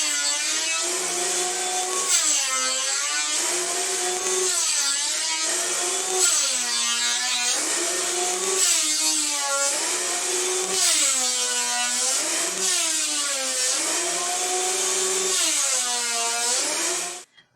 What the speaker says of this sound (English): We'll start out by taking the top through on the planer sled to get one nice flat surface